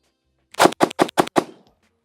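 Five rapid pistol shots from a double-stack 1911 crack out close and loud in quick succession, each sharp report evenly spaced, the last trailing off into a brief ring.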